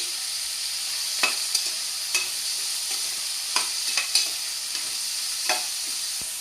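Sliced green chilies and onions fry in a pan for an Andhra-style mutton curry, giving a steady sizzle with a few sharp clacks from stirring spread through the clip and no talking.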